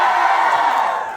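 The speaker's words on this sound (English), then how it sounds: "But can you have a cheer here?" An audience at the Yuvaa Conclave in Bharat Mandapam, New Delhi, cheers and whoops in a steady, loud wash of crowd noise that fades slightly at the end.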